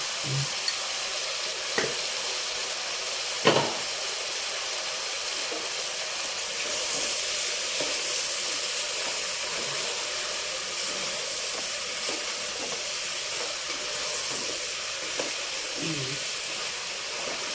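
Spices and chili powder sauté softly in hot oil for a sambar, making a steady hiss with a few light knocks of a utensil against the pan.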